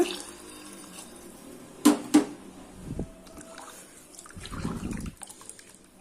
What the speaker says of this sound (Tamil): இப்போ தண்ணி நான் ஒரு மூணு அளவு ஊற்றுறேன்